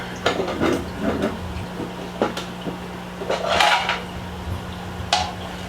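A plastic brine shrimp hatchery being handled and its collection cup opened, a series of close hollow plastic knocks, clicks and rattles at irregular intervals over a low steady hum.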